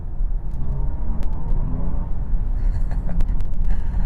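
A BMW i4 M50 electric car gliding along in Eco Pro mode, heard from inside as a steady low road and tyre rumble with faint clicks and rattles, loud and continuous.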